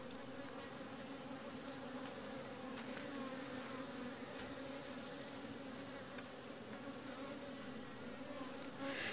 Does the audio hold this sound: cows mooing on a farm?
no